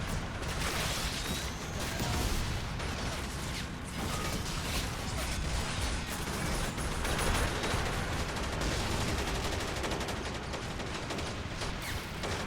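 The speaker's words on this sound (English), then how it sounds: "Look at the armor just soaking up all that small arms fire." Dense small-arms fire in a Warhammer 40k mod battle rattles constantly against armored vehicles, a packed, chaotic stream of crackling shots and metallic clatter running the whole time without pause.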